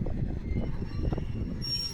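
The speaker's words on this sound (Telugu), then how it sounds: "దగ్గరలో ఉంది ట్రైన్. కిరండాల్ ఎక్స్ప్రెస్ అయితే ఇప్పుడు వస్తుంది." The Kirandul Express approaches a station on the Araku–Koraput line, a steady low rumble of rolling rail cars with faint metallic squeal building toward the end, no talk over it.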